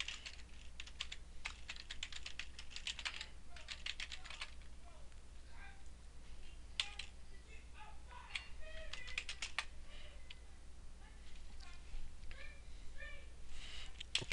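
Computer keyboard typing in a Linux terminal to restart the network service, a steady patter of fairly close key clicks in irregular bursts, with a faint hum beneath and no talk.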